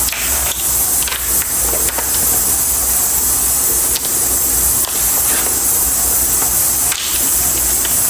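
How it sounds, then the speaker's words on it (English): Compressed air blasting steadily from an air compressor nozzle to clean out an LS engine part during valve lapping, a loud close continuous hiss with slight pulsing and brief dips. "I'm gonna use the air compressor, clean this out one more time"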